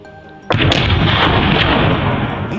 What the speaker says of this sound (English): My final shot hit the vital spot